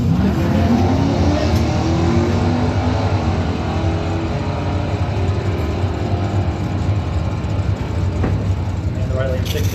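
Drag race cars, including a '72 Nova and a '65 Chevelle, running down the strip at a Mopar event, with a continuous loud engine roar and rising revs under a public-address announcer's voice.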